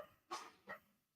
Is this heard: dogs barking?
yes